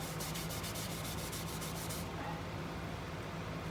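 Rubbing and wiping sanding sealer onto a turned mimosa wood bowl, a steady close hiss of friction with rhythmic strokes for the first half that then gives way to a softer, even scrubbing texture.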